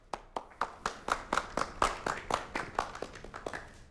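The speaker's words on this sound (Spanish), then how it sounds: "Recibámoslos con un fuerte aplauso" An audience welcomes a Ministry of Culture of Peru official with steady, rhythmic clapping in unison, about four sharp claps per second, moderately close and without talk.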